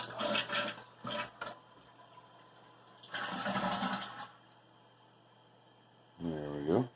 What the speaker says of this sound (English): Do a courtesy flush too, since I'm moving on to the gray water,